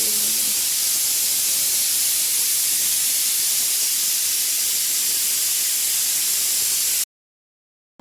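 Steam hisses steadily and loudly from a pressure cooker whistle in a home kitchen, a continuous broadband rush lasting about seven seconds before cutting off abruptly.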